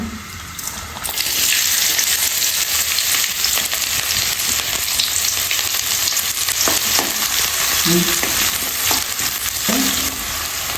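Loud, continuous sizzling of onion and dried chilies frying in hot oil after mustard seeds, a dense crackling hiss with occasional spoon scrapes, close and without talk.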